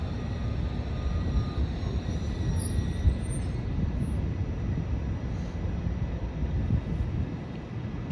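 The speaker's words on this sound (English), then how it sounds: "Southbound train to Conestoga is arriving." A southbound ION light rail train pulls into a station, a steady low rumble and rolling hum that stays close and even throughout with no talk.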